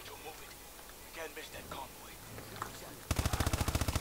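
Rapid automatic gunfire erupts near the end in the Call of Duty Advanced Warfare campaign, a fast, evenly spaced burst of loud shots after a quieter stretch of soft game ambience and a faint voice.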